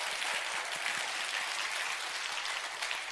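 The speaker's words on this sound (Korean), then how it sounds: "우리 한번 영광의 박수를 하나님 앞에 올려드리면 좋겠습니다" A church congregation at a Korean church in Orange County claps together: dense, even applause, steady and moderately loud throughout.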